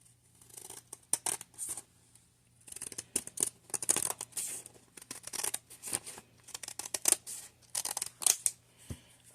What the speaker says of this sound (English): And then I just use your sharper scissors.